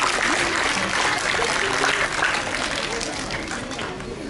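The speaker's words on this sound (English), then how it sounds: "A huge round of applause for Sachi." A school quiz competition audience applauds steadily with dense clapping that gradually fades a little toward the end.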